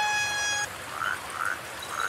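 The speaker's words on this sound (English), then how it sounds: "F for frog" A frog croaks three times in a regular rhythm of short, raspy chirps, fairly close, after a brief electronic tone at the start.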